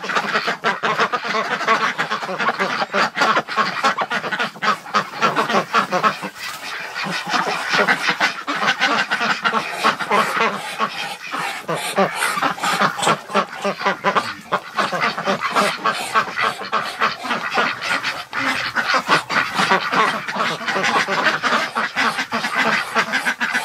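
A crowd of ducks quacks loudly and continuously in a barn duck hospital, dense overlapping quacks and honks close by, with no pauses through the whole stretch.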